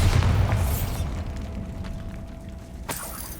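A Bombarda spell explodes in Hogwarts Legacy: a loud, heavy boom fills the first second, then fades into a quieter rumbling tail, with one sharp crack near the end.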